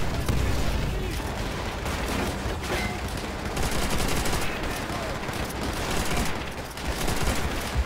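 Dense, sustained gunfire from a mounted machine gun in Call of Duty: World at War, on the Veteran difficulty of the Their Land, Their Blood mission, loud and continuous with bursts of other weapons and battle noise throughout.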